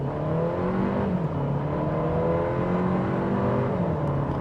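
A 2025 Audi A3 accelerating hard from a standstill, its turbocharged engine climbing steadily through the revs, close and continuous, with no talk over it.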